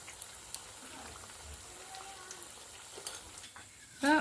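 Soya egg rolls deep-frying in oil give a steady, quiet sizzle throughout, with a few small clicks and a brief louder clatter near the end; no talking over it.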